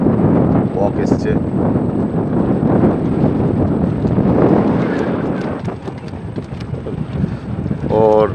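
Strong wind roars across a Sundarbans river where fishing trawlers run and nets are set, a loud steady buffeting rush on the microphone, with a few soft knocks near the end.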